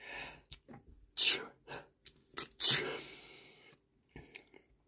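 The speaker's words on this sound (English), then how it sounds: "that was me sneezing" A person sneezes sharply twice at close range, with breathy gasps and small mouth noises around the sneezes.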